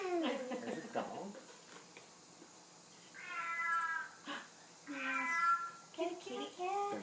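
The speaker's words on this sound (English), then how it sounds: "Kitty cat." A domestic cat meows several times from an animal sounds recording, drawn-out tonal cries spaced a second or two apart, with a person speaking softly between some of them.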